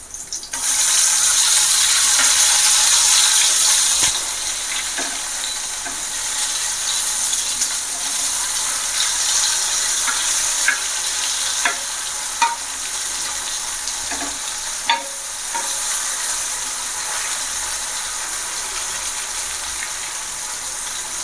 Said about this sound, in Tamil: ஒரு சைடு நல்லா வெந்துக்கிட்டு இருக்குது இதை அப்படியே அப்படியே நம்ம பரட்டி போட்டுடலாம்